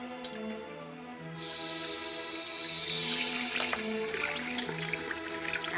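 Tap water runs steadily over a hand at a sink in a 1940s film scene, a continuous splashing hiss that swells after the first second, with faint musical score tones beneath.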